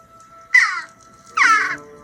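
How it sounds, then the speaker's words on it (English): A jackdaw in the film Nanny McPhee gives two harsh, loud caws about a second apart, each call rasping and brief against a quiet background. "The jackdaw emerges."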